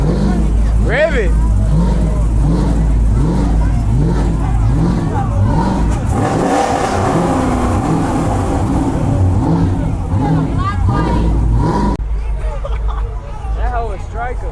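A 600hp Dodge Charger Scat Pack engine revs repeatedly in rhythmic bursts under a busy crowd, with people talking and shouting nearby throughout.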